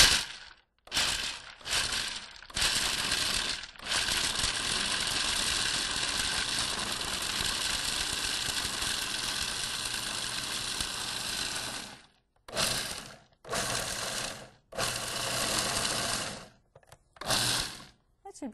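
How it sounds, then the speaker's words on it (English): A food processor grinds dates and nuts into crumbs for a raw pie crust, a loud, close, steady whirring run of about twelve seconds followed by several short bursts of pulsing. "now I'll put the lid on, and we'll just make this into crumbs"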